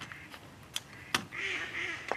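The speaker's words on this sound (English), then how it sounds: "Oh, the ducks are going crazy." Ducks on a 200-year-old fishing lake quack in a short excited burst, with a few sharp knocks and splashes around them.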